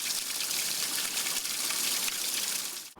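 Water from a natural spring in the Oleksiivska ravine on Klochkivska Street in Kharkiv gushes steadily and loudly up close, then cuts off sharply at the end.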